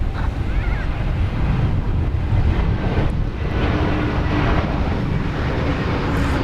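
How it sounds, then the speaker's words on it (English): An Airbus A321 arriving from Cancun at Dallas Fort Worth, a loud continuous roar of jet engines mixed with heavy wind rumble, steady and sustained throughout with no voices. "It's an Airbus A321 coming in from Cancun, Mexico."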